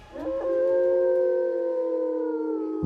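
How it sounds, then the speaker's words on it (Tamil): A wolf lets out a single long, sustained howl, loud and close, holding a steady pitch for nearly three seconds with no other sounds around it. "திடீரென்று ஒரு ஓநாய் ஊளையிடும் சத்தம் கேட்டது."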